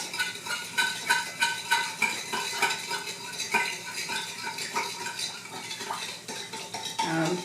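A spoon stirring a summer salad in a bowl, rhythmic clinking and scraping strokes repeating about once per half second, close and fairly loud.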